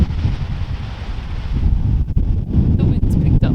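Strong wind gusts roar across the microphone outdoors near a waterfall, a steady loud low rumble with buffeting bursts and no clear talking.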